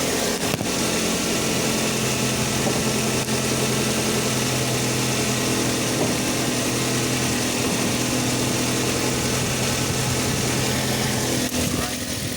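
A 2005 Ford Focus ZX3 engine idles steadily at close range with a continuous low hum and a faint ticking texture throughout, the sound of a car parked during intake runner manifold control valve work.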